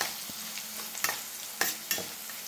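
Drumstick leaves and toor dal with turmeric frying in a pan, a soft steady sizzle broken by a few sharp scraping stirs, close and quiet with no voices.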